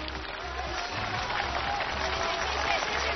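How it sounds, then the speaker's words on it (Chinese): Sustained studio audience applause congratulating the Chengdu team at a televised choir competition final, a dense steady wash of many hands clapping at even loudness with crowd noise underneath. "掌声祝贺成都队拿到5分。"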